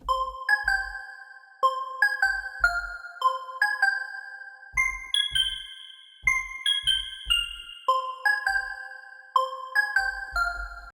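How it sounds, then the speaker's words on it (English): A high, bright bell-like synth pluck preset named Tour plays a trance melody of crisp tinkling notes over deep kick thumps, with sustained shimmering tones ringing clearly throughout. "this last plug I'm going to show you is called Tour, and it is very high, almost sounds like a bell plug."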